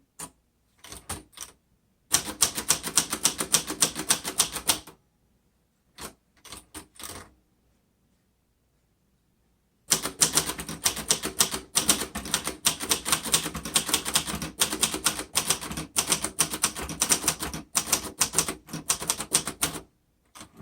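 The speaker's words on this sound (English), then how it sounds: "this was designed to be a budget typewriter, and you can tell in typing it works well" Typing on a 1962 Royal Signet manual typewriter, a budget model: brisk bursts of crisp key strikes in close-up, broken by pauses and a few isolated clacks, with a long steady run of rapid typing near the end.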